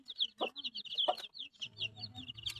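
A hen on a small farm clucks in quick, chirpy bursts close by, with a few louder calls mixed in and a low rumbling background underneath; no one speaks.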